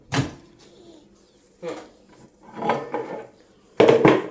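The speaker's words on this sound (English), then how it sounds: "Open the door and put that in." A kitchen door, likely an oven or cupboard, being opened to put food in, heard as several separate wooden clunks and knocks that finish in a louder, close thud, with little talk around them.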